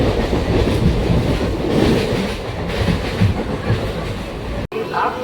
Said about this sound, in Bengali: আমাদের ট্রেন চলে গেল আবার হাওড়ার উদ্দেশ্যে